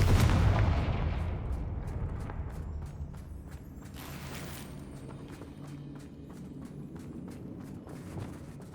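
A Confringo fire spell blasts in Hogwarts Legacy, opening with a loud booming burst that rolls into a crackling, rumbling decay, followed by scattered sharp clicks and thuds with no talking.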